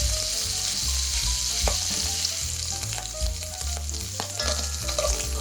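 Pork sizzles and browns in a pan for kimchi, with a dense, steady crackle and spatter throughout, and a few stirring clinks.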